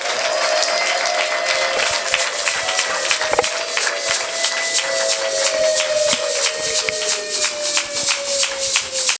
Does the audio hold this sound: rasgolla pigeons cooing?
no